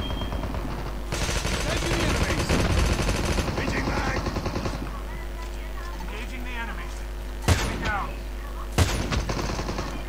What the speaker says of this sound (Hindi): गोली चल रही है